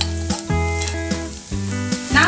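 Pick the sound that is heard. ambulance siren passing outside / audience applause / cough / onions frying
onions frying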